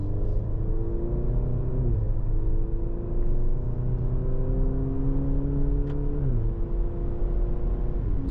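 Maserati Grecale Modena SUV engine while driving, a low steady drone that rises in pitch through gear changes, with smooth upshifts and a continuous rumble from inside the cabin.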